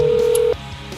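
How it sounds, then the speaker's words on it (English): On an outgoing phone call, a single steady ringback tone sounds for about half a second and then stops, leaving a faint hush with no voices. "Let's see if he picks up the phone."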